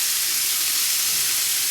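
Wagyu beef bacon sizzles steadily in a hot pan, a close, continuous bright hiss and crackle with no talking.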